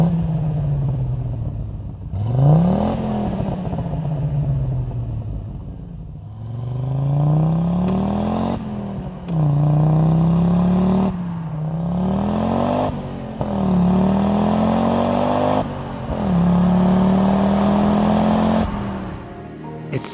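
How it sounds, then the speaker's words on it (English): A 1982 Audi UrQuattro 10V with a turbocharged five-cylinder engine, driven on forest roads in southern Germany, revs loudly up through repeated gear changes, each pull rising in pitch before a brief dip, close and without talk. "I could really hear the 5-cylinder sing."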